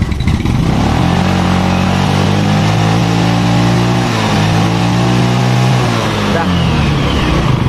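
A Yamaha Mio scooter that stalled on the road is revved hard at full throttle, its engine holding a loud, steady high drone for several seconds before easing off, with a voice occasionally heard over it.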